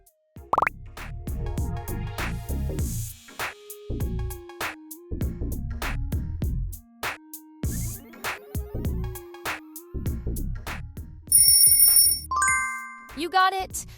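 A viral brainrot meme sound, Blueberrini Octopussini: a voice chants rhythmically over bubbly plopping blips and bass hits, then bright dings and chimes near the end, loud throughout.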